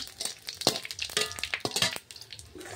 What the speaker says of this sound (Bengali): আমি কটা জিরে, একটা শুকনো লঙ্কা, একটা তেজপাতা ফোড়ন দিয়ে দিলাম।